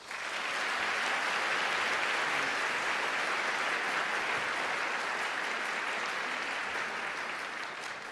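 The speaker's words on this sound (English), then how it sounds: "Please give Mrs. Ottoman a round of applause." Sustained applause from a graduation convocation audience at a high school ceremony, a steady dense wash of many hands clapping at even loudness for about eight seconds, with no voices over it.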